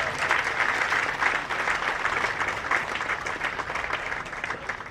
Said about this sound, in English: deserves another resounding applause